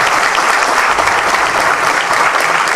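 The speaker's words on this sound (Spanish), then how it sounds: "Un aplauso al profesor Imran Baku" An audience at a forum applauds an English professor, a dense, loud, continuous wash of many hands clapping close by without pause.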